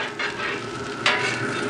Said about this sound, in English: Man, you can smell that garlic cooking